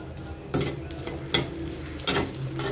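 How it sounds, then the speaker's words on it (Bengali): Onions fry in a pan under a low steady sizzle, broken by three sharp scraping stirs of a utensil against the pan at uneven intervals, close by and without talk. "তো একটু ভেজে নিলাম পেঁয়াজটা।"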